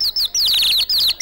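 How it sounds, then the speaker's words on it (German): Zwitschertopf, a water-filled bird warbler whistle, gives loud, close, rapid trilling chirps in short bursts with brief gaps, sounding much like a songbird. "So, ein Zwitschertopf hätte ich noch dabei."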